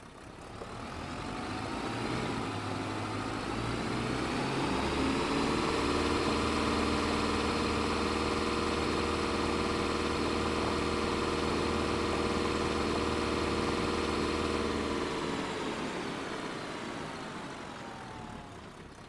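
A Ford truck engine in Farming Simulator 25 runs steadily, rising in from quiet, holding a smooth even drone with a low hum for most of its length, then fading back down.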